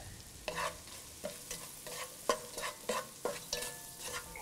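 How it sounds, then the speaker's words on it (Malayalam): Sliced onions being stirred with pepper powder in a pan for a shrimp rice noodle stir fry, a faint low sizzle broken by regular scraping strokes of a spatula, quiet and close. "സവോള ഒന്ന് വാടിക്കഴിയുമ്പോൾ നമ്മൾ എടുത്തു വെച്ചിരിക്കുന്ന 1 ടീസ്പൂൺ കുരുമുളക് പൊടി ഇട്ട് മിക്സ് ചെയ്യുക."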